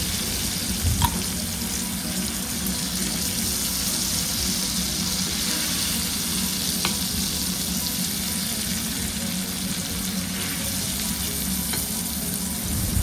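Pomfret fish fry in a pan after being flipped, giving a dense, constant sizzle and crackle throughout, with a couple of faint clicks from the pan.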